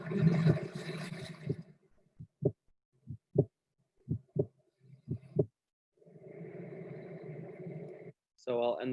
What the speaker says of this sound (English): Feel your heartbeat.